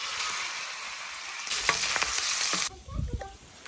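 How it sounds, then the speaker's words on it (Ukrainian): Pork belly hits a hot pan and sizzles loudly with crackling spatter, following a quieter hiss and preceding stirring clatter, close up with no voices. "Смажимо підчеревок з картоплею та фруктами."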